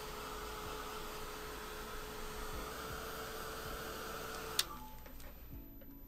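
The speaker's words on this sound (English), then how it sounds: "now is when you hit it with the hair dryer or the heat tool to stop it." A hair dryer blows steadily at close range, then cuts off with a click, leaving a faint hum and light rustling.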